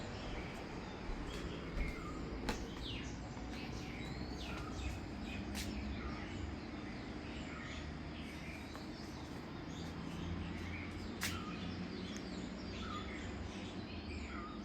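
Birds chirping at a scenic viewpoint in Badulla, several faint, scattered high calls and tweets at a distance over a steady, quiet outdoor background.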